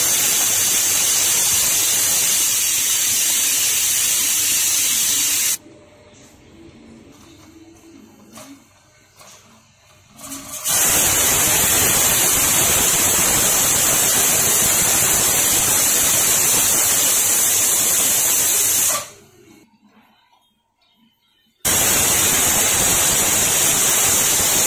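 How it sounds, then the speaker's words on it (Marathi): Steam blasts from a pressure cooker cooking dal and rice on a stovetop: loud, steady hissing rushes out in long bursts, twice broken by several seconds of near quiet. "तर कुकरचे चार शिट्या झालेल्या आहेत"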